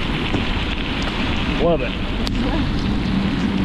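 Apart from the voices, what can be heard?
rain during a strong thunderstorm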